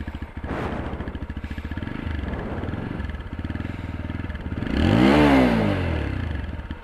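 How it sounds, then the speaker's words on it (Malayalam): A TVS Apache RTR 160 BS6 motorcycle with a double-barrel exhaust idles with a steady low, bassy throb, then revs sharply upward near the end and settles back down, loud and close with no talking. "നമ്മൾ റബ്ബ് ചെയ്യുന്നതിനനുസരിച്ച് നല്ലപോലൊക്കെ ബേസുള്ളൊരു സൗണ്ടാണ് ഈ ബൈക്ക് പ്രൊഡ്യൂസ് ചെയ്യുന്നത്"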